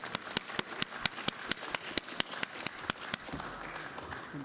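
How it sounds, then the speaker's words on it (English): Scattered applause from a small audience at a city council meeting, greeting a councillor's maiden speech: a handful of sharp individual claps in a loose rhythm, fairly close, fading into low room noise near the end. "Can we give him a round of applause?"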